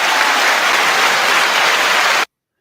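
Canned studio-style applause triggered from a sound button, a dense, steady burst of clapping and cheering that plays loud and alone for about two seconds before cutting off abruptly into silence.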